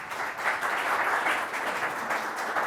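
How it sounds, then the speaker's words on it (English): Audience applause for a speaker from a Costa Rican coffee cooperative, a steady dense wash of many hands clapping at moderate level, with no voices over it. "round of applause for Monserrat"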